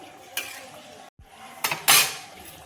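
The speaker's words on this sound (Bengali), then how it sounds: "ঢাকাটা দেখো খুলছি" A metal lid lifted off a pot of boiled dal: a light clink, a brief pause, then a couple of sharper clanks and a louder metallic scrape near the end.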